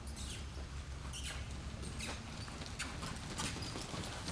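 A horse lopes around an indoor arena, its hooves landing in a quick, repeating three-beat rhythm of soft thuds and scuffs on the footing, fairly faint and steady, with no voices over it.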